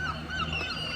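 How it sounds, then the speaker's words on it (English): A seagull calls in harsh, honking bursts close by during breakfast outdoors at a bridge congress in Eastbourne, with steady outdoor noise underneath. "is being attacked by a seagull, it seems"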